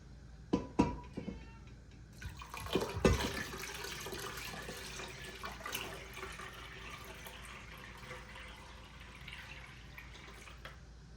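A few clunks and knocks, then broth with peppercorns pours steadily into a stock pot with a continuous splashing gush that gradually softens.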